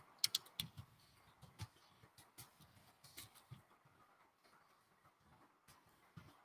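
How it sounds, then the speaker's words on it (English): Keyboard typing, a loose run of soft clicks with a few sharper bursts, fairly close and quiet, with no voices. "Oh, just type it into Margie."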